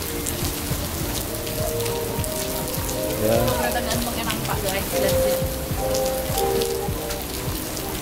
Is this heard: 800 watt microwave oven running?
no